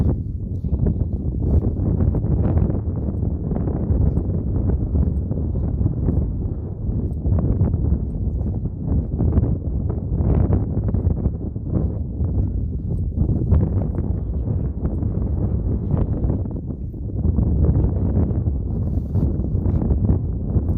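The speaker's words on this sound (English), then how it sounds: "Very windy though" Strong wind buffets the microphone in a steady low roar with gusty surges throughout, outdoors in open country.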